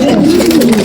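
A racing pigeon gives a short, close, throaty coo, one low rolling call that fills the brief moment.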